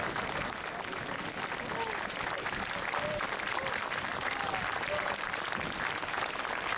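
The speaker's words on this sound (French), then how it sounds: "un tonnerre d'applaudissements pour Marc Staelen" A crowd applauds at the awards ceremony at the Tour de la Manche 2014 cycling finish in Granville, honoring cyclist Marc Staelen with sustained, dense clapping while an announcer talks over it.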